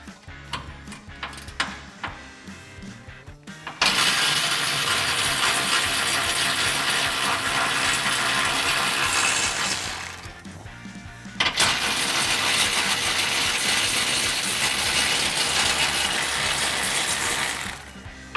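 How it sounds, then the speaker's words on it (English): A hand ratchet with a 13mm socket clicks rapidly while removing bolts from a Jeep Gladiator exhaust bracket, with sparse clicks at first, then two long, dense, close runs of ratcheting separated by a short pause. "we're gonna use our 13mm socket to remove these"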